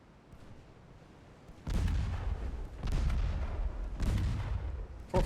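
Naval guns fire in the warship battle game Ultimate Admiral Dreadnoughts, three deep booming salvos rolling out one after another, heavy and resonant over a quiet background.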